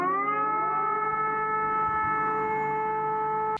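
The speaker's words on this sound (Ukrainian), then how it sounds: "Тим часом на Росії повітряна тривога." An air raid siren wails in Russia, a loud, steady sustained tone that holds evenly for several seconds before cutting off abruptly at the end.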